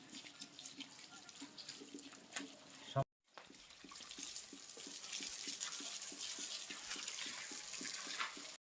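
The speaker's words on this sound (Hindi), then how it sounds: "अब इसको धो करके काट के सुखाया जाएगा, और अभी मैं इसको पानी से धो रहा हूँ।" Fresh organic turmeric being rinsed under running water, a steady splashing faucet stream with a brief break near the middle before the flow resumes louder.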